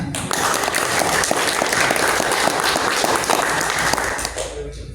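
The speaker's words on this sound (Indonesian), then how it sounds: "Boleh tepuk tangan." An audience at a national-awareness talk led by Mayor Dulkadir claps after the speech ends, a loud, dense burst of applause that holds steady for several seconds before tapering off.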